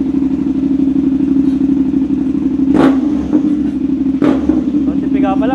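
Motorcycle fitted with an Austin Racing exhaust held at a steady 4,000 RPM, a loud constant droning idle-rev with a couple of sharp clattering knocks and a voice speaking over it.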